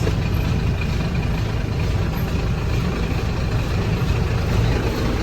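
A Lovol P4110 tractor engine runs with a SIPMA baler in hay, a loud, close, steady diesel drone with no breaks and no voices.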